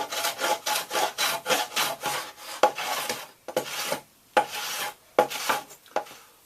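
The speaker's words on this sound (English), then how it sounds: "I'm going to remove all this waste wood right down to here, and from here down to here." Hand sawing or rasping strips waste wood from a kirar guitar body in quick rhythmic strokes, close and loud, with brief pauses between bursts of rough scraping.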